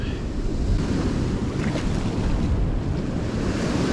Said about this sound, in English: Like just that rush of water on this wave break and that curl and funnel back forth.